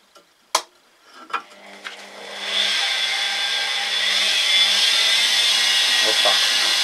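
A few sharp knocks give way to a motor whirring up and holding a steady high whine, a drill press driven by a washing machine motor, spinning and drilling.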